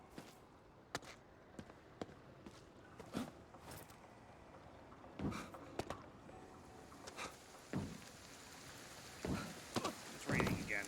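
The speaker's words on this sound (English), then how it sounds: "It's raining again." Rain falls in the video game Ghostwire: Tokyo, a soft steady patter with irregular louder drops and taps scattered throughout.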